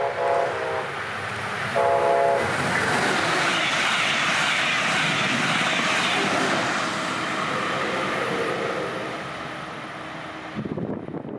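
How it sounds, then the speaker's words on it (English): A Brightline passenger train barrels south at 110 mph on the Florida East Coast Railway, with two short horn blasts near the start, then a long, loud rushing roar that fades at the end. "we'd get another view at what 110 miles an hour looks like, now in good light as BLF 722 barrels south"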